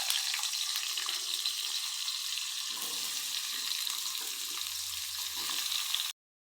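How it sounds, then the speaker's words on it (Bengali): Dried red chillies and potatoes frying in hot oil, a loud continuous hiss of sizzling close by that cuts off abruptly near the end. "শুকনো লঙ্কা দুটো দিয়ে দেব, ভালোভাবে ভেজে নেব। আমরা আলুগুলো দিয়ে দেবো,"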